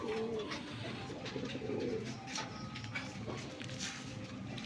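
Domestic pigeons coo in a cage, soft, low, repeated calls rising and falling throughout, fairly faint against a quiet background.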